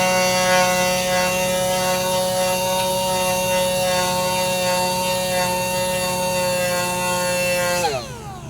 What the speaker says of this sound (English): we'll just sand out this damage down here